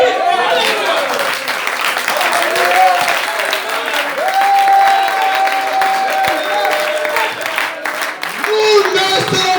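A church congregation breaks into loud, sustained applause and cheering, with dense clapping filling the room and voices shouting and calling out over it throughout.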